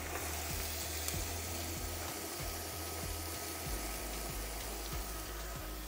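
Celery and carrots frying in a pan, giving a steady, close, continuous sizzle with faint bubbling and a few soft low knocks throughout.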